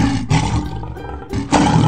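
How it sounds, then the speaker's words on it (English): A lion gives two loud, close, angry roars, each a deep rasping bellow separated by a short pause. "the mouse heard what sounded like angry roars."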